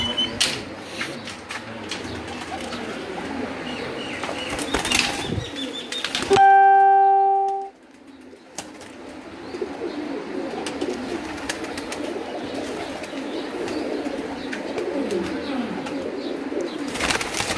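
Pigeons in a rooftop loft give soft coos and rustles at a steady low level, with a brief bright electronic tone sounding partway through and no speech.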